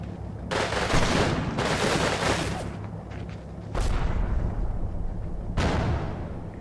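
Artillery strike in Combat Mission Red Thunder, a series of loud, heavy shell explosions with rumbling, crackling bursts arriving in several waves, each blast trailing into low rolling booms.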